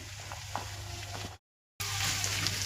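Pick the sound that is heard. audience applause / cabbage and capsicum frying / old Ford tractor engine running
cabbage and capsicum frying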